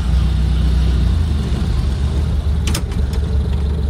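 A 1927 Ford Model T engine runs at a steady idle after starting, a loud continuous low rumble close by with a brief rattling clatter near the end.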